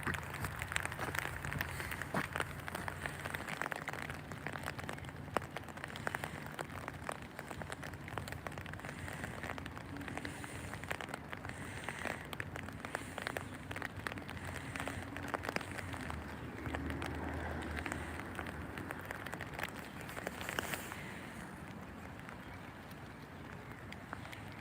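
Cold rain falls steadily on surfaces, a continuous soft hiss and patter throughout with no breaks, faint and even in level, with no voices.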